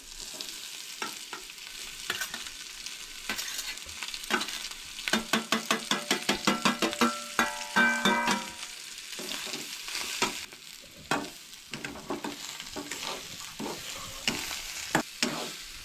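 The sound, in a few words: sautéing onion and sprouted moong in a pan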